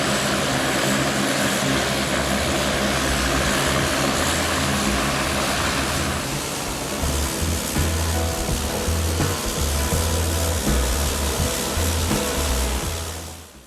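An Air Chathams propeller airliner taxis onto its stand with a loud, steady turboprop drone and whine heard close up, then the engines spin down and fade at the end.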